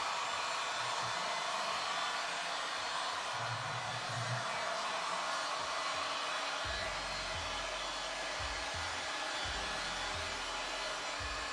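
A heat gun runs continuously while applying heat during a snorkel install on a second-generation Toyota Sequoia, giving a steady, loud, close blowing roar with faint thumps and shifts in the background.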